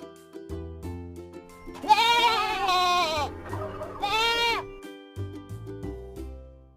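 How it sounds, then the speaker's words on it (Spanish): Sheep bleating from a children's animal sounds lesson, two long wavering baa calls in close succession, loud and near, over light background music. "¿Sabes cómo hace una oveja?"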